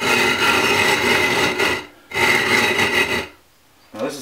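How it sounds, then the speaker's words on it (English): Coarse 36 grit silicon carbide abrasive grinding between a glass tool and a telescope mirror, a loud harsh rasping scrape in two long strokes broken by short pauses, then a fresh stroke starting near the end. "This is 36 grit abrasive, so it's really, really harsh sounding at first."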